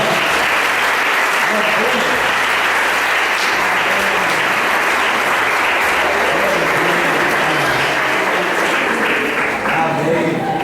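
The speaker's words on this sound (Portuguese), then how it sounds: "Aplauda o Senhor Jesus, irmão." A church congregation applauds in dense, sustained clapping that fills the whole stretch, loud and close, with voices mixed into the clapping.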